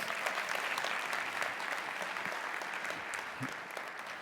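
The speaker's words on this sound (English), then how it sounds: "Give him a round of applause." An audience at a real estate investing seminar claps steadily, a dense wash of applause that holds throughout and tapers slightly toward the end.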